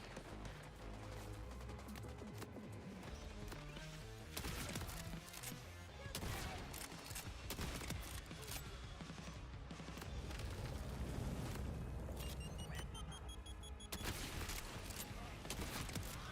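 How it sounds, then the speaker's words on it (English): A Doom-style shotgun in Borderlands 4 fires again and again in dense booming volleys, loud and continuous, with explosions and game effects layered through the whole stretch. "It's even got the Doom shotgun noises."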